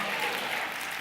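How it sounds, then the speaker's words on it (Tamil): A church congregation claps to glorify the Lord, a brief, dense, even wash of many hands clapping together. "நல்லா கைத்தட்டி கர்த்தரை மகிமைப்படுத்துங்களேன்."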